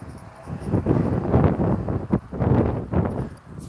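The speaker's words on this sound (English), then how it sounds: "This wind is powerful today." Strong gusting wind buffets the microphone with rough, low rumbling surges that rise and fall over a few seconds outdoors.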